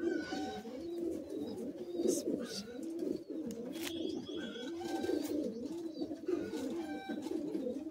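Madrasi pigeons coo inside a cage, a run of low, throaty, repeated coos from several birds close by, with scattered higher chirps over them.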